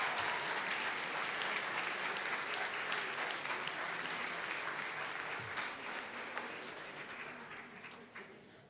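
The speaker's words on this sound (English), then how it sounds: "Now one loud round of applause for all of our middle school champions." An audience at a school board meeting gives sustained applause for middle school champions, a dense wash of clapping that slowly fades toward the end.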